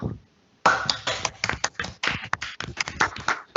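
An audience at an academic lecture claps to welcome the presenter, with a burst of close, dense handclaps starting after a short silence and continuing unevenly, with some individual claps standing out.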